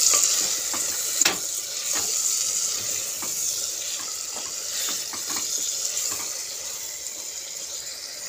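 Meat sautéing with salt in a pan gives a steady sizzle, broken by sharp scraping and clinking strokes of a spoon stirring against the pan at a close distance.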